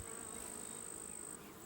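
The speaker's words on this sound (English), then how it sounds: "I see some bees with pollen on it." Honey bees hum on comb during an open hive inspection, a steady close buzzing drone with one insect's higher whine holding above the swarm, no voices.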